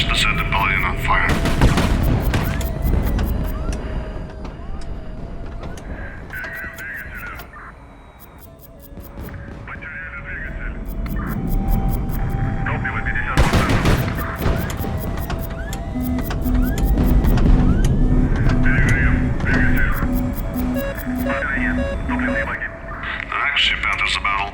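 Naval battle in the HighFleet game, with repeated booming gun blasts, missile hits and mechanical clatter over an ongoing rumble, while a voice narrates throughout.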